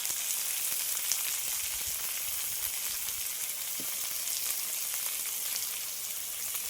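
Chopped tomato with salt frying in a pan gives a steady, bright sizzle that holds throughout, with a few faint crackles and a light clink of stirring partway through.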